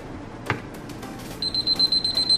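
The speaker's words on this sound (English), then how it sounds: "it actually beeps when it reaches its temperature" A kitchen cooking thermometer, used on chicken cooking for chicken alfredo, gives a run of short, evenly spaced high beeps after a clatter, cutting clearly through low kitchen background noise.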